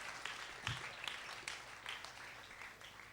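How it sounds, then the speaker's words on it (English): Applause for all the teams at a pitch competition, a faint, distant round of clapping with scattered louder claps, heard alone and fairly quiet. "A round of applause,"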